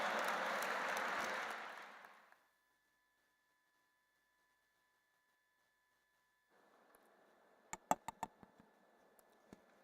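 Audience applause fills a hall at an interfaith conference, a dense crackling burst that fades out after about two seconds, then near silence, then faint room noise with a few sharp taps.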